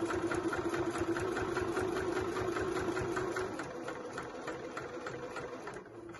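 A sewing machine runs fast and steady, stitching a fold-over clutch bag lining with the pleats and a pocket, a close rapid mechanical whir that slows slightly near the end, with no talk.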